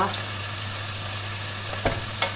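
Onions and tomato paste sizzle steadily in a frying pan for a Turkish chickpea stew, a constant hiss with a couple of brief stirring scrapes near the end and no talking.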